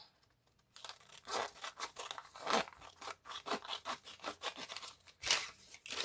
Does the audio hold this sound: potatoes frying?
no